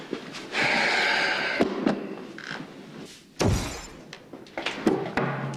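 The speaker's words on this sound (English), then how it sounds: "Destroying the camera won't change anything." A camera is smashed in several sharp blows, with a long crunching crash early on, then separate thuds and a heavy impact, all close and loud with no talking.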